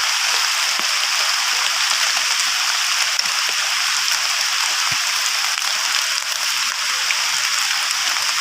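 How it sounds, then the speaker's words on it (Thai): Steady, dense hiss of heavy rainfall pours without pause, a loud continuous wash of water with no voices. "ฝนตกหนักมากเลยนะครับตอนนี้"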